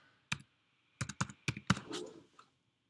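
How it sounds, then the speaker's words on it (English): Several sharp, separate clicks of keys being pressed on a computer keyboard as a number is typed in, spaced irregularly with short pauses, close up and quiet, with no talking. "type that in"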